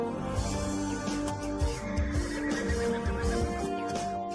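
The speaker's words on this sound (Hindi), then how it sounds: "वो घोड़ा, वो यहाँ का सबसे पावरफुल घोड़ा है।" Horse neighing in a Hindi action film, a wild, powerful stallion at a riding practice ground, with whinnies rising over a dense, steady bed of film music and background sound.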